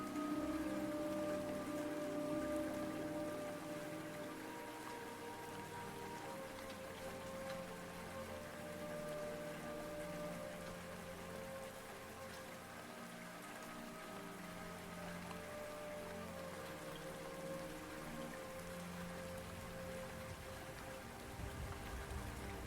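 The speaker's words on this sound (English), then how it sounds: "I'm playing weather in the background." Steady rain ambience plays quietly in the background, a soft continuous patter of falling drops with a low hum underneath, even and unbroken throughout with no talking.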